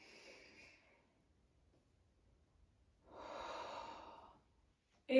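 Breathing during a Pilates exercise: a short exhale, a pause, then a longer audible breath, close and soft, ending with a brief sharp sound.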